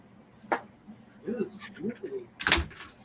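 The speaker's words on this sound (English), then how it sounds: "I'm just opening up the door." An indoor door is opened, with a soft click of the latch, a few spoken words, then a louder knock and thump as the door swings open.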